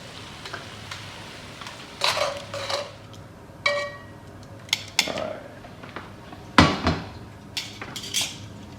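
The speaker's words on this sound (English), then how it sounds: "So I'm gonna use tongs and take the onions out." Metal tongs clatter and scrape as fried onions are lifted out of one pan and into another pot, several sharp knocks and clinks spaced through a quiet, faintly humming kitchen.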